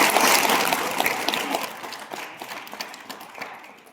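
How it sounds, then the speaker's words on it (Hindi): A crowd of listeners claps at a spiritual talk, a dense, steady patter of hands that starts loud and gradually thins and fades over a few seconds, with no voices over it. "ये जो ताली बजाई जाती है"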